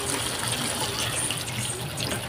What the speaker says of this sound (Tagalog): At lagyan po natin ng tubig.